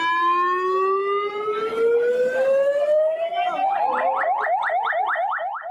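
A loud ambulance siren in Galle, Sri Lanka sweeps steadily upward in pitch, then breaks into a rapid repeating yelp, continuous and close.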